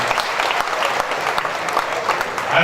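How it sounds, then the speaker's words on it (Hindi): Dense, sustained applause from a large audience at an Urdu poetry mushaira in Mumbai fills the whole stretch, steady and loud. "जोरदार तालियां।"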